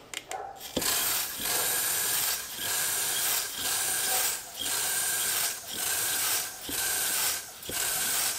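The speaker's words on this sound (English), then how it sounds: "It's got a pretty decent spray pattern there." Bench-tested fuel injector firing WD-40 in short, loud hissing spray bursts, about seven pulses at a steady rhythm with brief gaps between them, close up with no talking.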